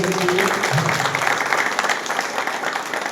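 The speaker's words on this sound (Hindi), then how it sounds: "सर के लिए जोरदार ताली होनी चाहिए" Loud audience applause for a team leader at a gathering, dense clapping sustained across the whole stretch with some crowd noise mixed in.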